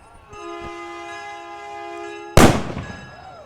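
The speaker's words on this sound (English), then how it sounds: "always blowing the cannon off" A single loud cannon blast booms from a veterans' float at a Herbstfest parade, a sharp close report with a decaying tail, following a sustained horn-like tone beforehand.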